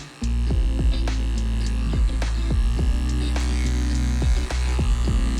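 Electric grooming clippers trim a dog's sanitary area between the legs, giving a loud, steady buzzing hum with repeated dips and scraping touches as the blade moves through fur.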